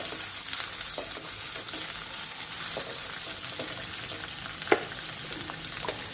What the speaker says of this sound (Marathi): आता आपण इथे हा कांदा चांगला फ्राय करून घेऊया